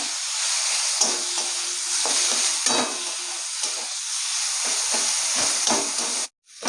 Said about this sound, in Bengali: পেঁয়াজটা রসুনটা ভালো করে ভেজে নেবো